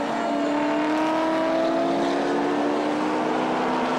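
A pack of 1960s touring cars, Ford Cortinas, Minis and Holdens, roars around the back of a hill on a race circuit, loud continuous engine drone with rising pitch as the cars pass and accelerate.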